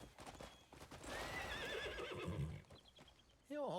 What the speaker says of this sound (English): Apparently, the legendary horse Kimura also counts as a Brianto.